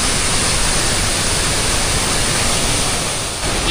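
A roaring 30-metre waterfall in full flow, heard from a viewpoint directly above it, makes a loud, dense, unbroken rushing roar that barely dips near the end.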